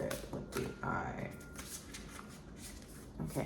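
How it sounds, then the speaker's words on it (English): Tarot cards being shuffled in a daily tarot reading, a dry papery riffling and sliding that comes in short bursts, close up, with a voice speaking over much of it. "We're gonna shuffle a bonus card for you guys."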